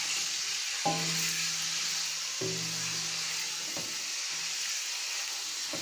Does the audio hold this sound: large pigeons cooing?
no